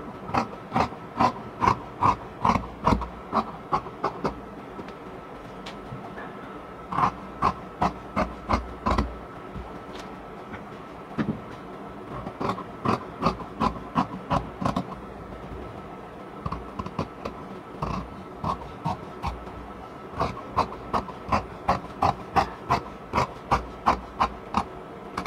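Scissors cut fabric along a marked line for a women's pant pattern, giving a long series of crisp, close snipping clicks in quick rhythmic bursts with brief pauses between, with no voices.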